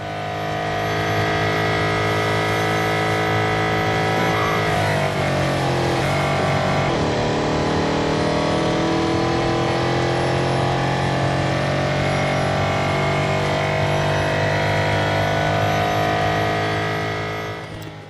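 Race car engine in the Real Racing 3 game at Monza, a loud, steady high-pitched roar that holds throughout, dipping briefly mid-clip as it shifts and then climbs again, with no talk over it.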